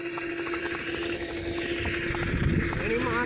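Hooves of two mares clip-clop in a steady rhythm during a rural ride in the rain, close and moderately loud, with people talking over them.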